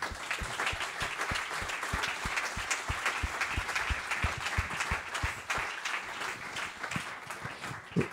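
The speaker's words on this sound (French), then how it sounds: "On va applaudir vos équipes et on va applaudir également votre collaborateur en sa mémoire" An awards-ceremony audience applauds the winning teams at length, a dense, steady wash of many hands with some individual claps standing out near the front, continuing for about eight seconds without talk.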